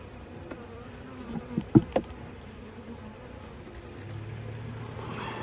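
Honey bees buzz steadily around an open hive during winter prep, a soft constant drone with a few louder thumps of frames or handling partway through and a low hum rising near the end.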